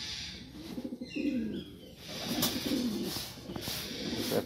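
Pigeons kept indoors in a cage with their young chicks give soft, repeated throaty coos at close range over a quiet hiss of room noise, with a few faint chirps between the calls.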